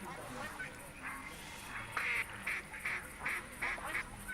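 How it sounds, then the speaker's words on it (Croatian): Repeated quacking of American ducks in a duck-hunting video game, several short bursts in a loose rhythm at moderate level over a steady background bed. "Znam da su američke, dakle ovo su američke patke."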